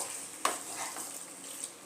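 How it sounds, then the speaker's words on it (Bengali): Marinated chicken sizzles and fries with spices in a pan while it is stirred, with a sharp scrape of the utensil and a steady hiss throughout. "চিকেনটা যে ম্যারিনেট করে রেখেছিলাম চিকেনটা দিয়ে দিলাম। ভালো মতো মশলার সাথে মিশিয়ে নেব।"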